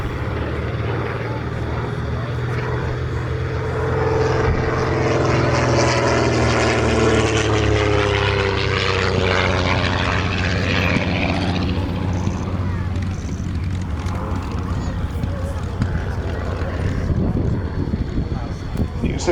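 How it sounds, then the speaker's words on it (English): A vintage propeller aeroplane at a grass airfield display flies a curved landing approach, its droning engine loud and steady throughout with shifting pitch as it banks past, a broadband roar with wind noise. "The pilot can see the runway by flying in on that curved approach."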